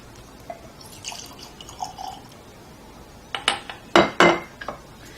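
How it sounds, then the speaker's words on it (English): Cask strength bourbon spills across a counter with quiet dripping and splashing, followed by several sharp clinks of glass near the end. "Or I could pour it all over the counter."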